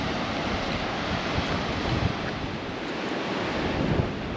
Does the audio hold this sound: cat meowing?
no